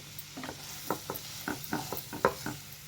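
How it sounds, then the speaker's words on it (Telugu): Chopped capsicum pieces fry in masala in a pan, with a soft sizzle under a steady rhythm of scraping stirs, about two or three strokes a second, close and moderately quiet. "ఇలా కలిపిన తర్వాత ఇందులోకి మనం చిన్నగా తరిగి పెట్టుకున్న క్యాప్సికమ్ ముక్కలు వేసుకోవాలి"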